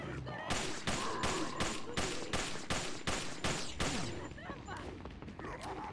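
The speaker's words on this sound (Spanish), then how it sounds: "Vamos a pegarle unos tiros de castigadora" Rapid bursts of gunfire from the Punisher pistol in Resident Evil 4, about nine loud evenly spaced shots over four seconds, then quieter game noise.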